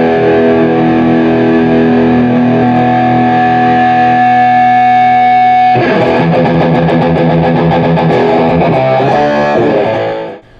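Electric guitar played through an Orange #4 head amp with the gain turned up, sustained distorted chords ringing loud and dense, then shifting to choppier heavily overdriven strumming before cutting off, with no talking.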